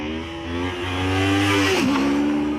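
Honda VFR1200X Crosstourer motorcycle being ridden, its engine note rising steadily as it accelerates, then dipping briefly as it shifts gear and climbing again, close and loud.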